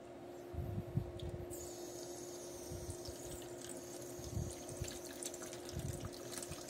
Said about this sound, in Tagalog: Tapos lagyan na natin siya ng tubig.